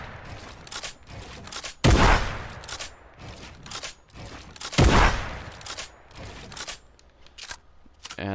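Repeated gunfire in a building-and-editing shooter video game, with two loud close shots standing out among a steady run of quicker, lighter shots and clicks.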